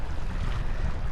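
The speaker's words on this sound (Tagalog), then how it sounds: "Napakalakas pa ng hangin yun." Strong wind on a rocky coast roars against the microphone, a dense, constant low rumble with no pauses.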